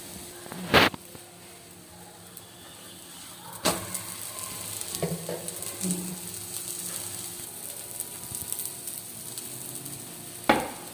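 An omelette frying in a pan, with a soft steady sizzle running throughout and a few scraping or clattering knocks from handling, the loudest near the start and the end; no voices.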